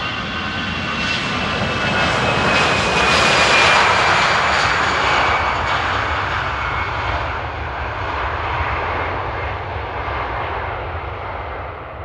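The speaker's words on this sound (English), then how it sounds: "it was still a pretty nice takeoff roll" An MD-80 jet airliner roars through its takeoff roll at Amsterdam airport, a loud sustained engine rush that swells and then slowly fades.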